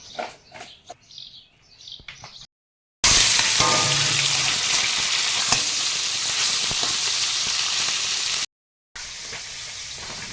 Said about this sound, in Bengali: এবারে মাছগুলোতে লবণ হলুদ মাখিয়ে ভাজবো